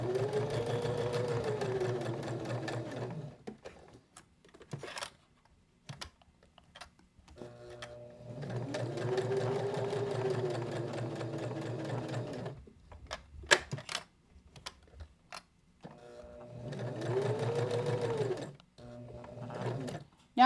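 A sewing machine stitches fabric in three bursts of steady rapid whirring, each a few seconds long, with quiet pauses between them broken only by small clicks and handling noises.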